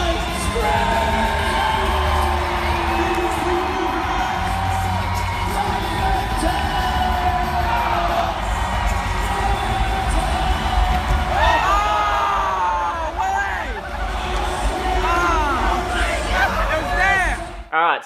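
A large crowd at a freestyle frontflip event cheers, whoops and screams continuously at high volume, a dense wash of yelling voices that never lets up.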